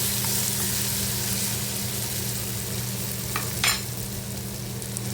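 Chopped tomatoes sauté in a pan for gawar bhaji, giving a steady, close sizzle throughout, with a couple of quick spatula scrapes near the end and no voices.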